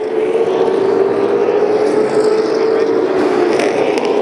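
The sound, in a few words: super late model race cars racing on track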